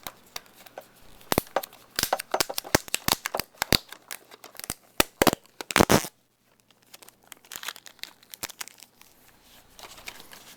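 A sticker and plastic wrapping are peeled and torn from an anime DVD case in a quick burst of close crinkling and ripping, then a pause followed by softer, scattered rustling.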